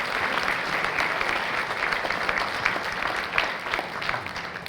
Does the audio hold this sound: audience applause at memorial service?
yes